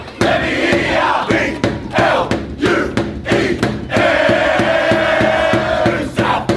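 A large crowd of rugby league fans at a State of Origin match chants loudly in rhythmic unison for the New South Wales Blues, with sharp claps or stomps punctuating the roar and no talking.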